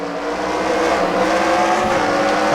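A race car engine in NASCAR Racing 2003 revs hard and climbs through the gears on a road course, loud and steady throughout with a brief tire squeal, no talk.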